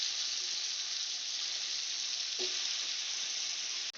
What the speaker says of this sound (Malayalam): അപ്പോൾ ഇതിൻ്റെ ഒരു ഭാഗം ഫ്രൈ ആയി വരുമ്പോൾ നമുക്ക് മറ്റേ ഭാഗം ഒന്ന് മറച്ചിട്ട് കൊടുത്തിട്ട് ഫ്രൈ ചെയ്തെടുക്കാം.